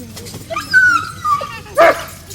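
Dogs outdoors give a few high whimpers and whines followed by a short burst of barking, fairly close, in separate bursts over a low background hum.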